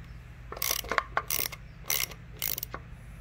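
A 7mm bolt being removed from the carburetor of a Briggs and Stratton 140cc push mower engine, giving several bursts of close ratchet clicking with short pauses between them.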